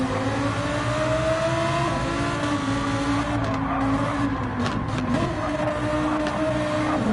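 Race cars in a Gran Turismo 7 league race on soft, intermediate or wet tires, engines droning and whining continuously as they chase closely through corners, a loud unbroken wall of engine noise with occasional tire scrub.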